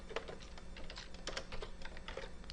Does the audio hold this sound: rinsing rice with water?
no